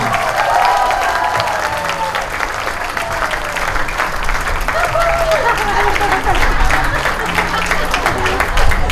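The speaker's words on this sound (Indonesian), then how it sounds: "Kita panggil tepuk tangan yang meriah Bapak Ibu, yang keras, Bapak Nasehan" An audience at an Indonesian business event applauds loudly and steadily as a director is called up, a dense crowd clapping that continues for several seconds, with an announcer's voice and background music running underneath.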